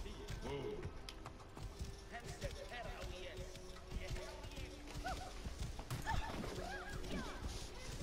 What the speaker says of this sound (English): I just bowled some dude over with the horse.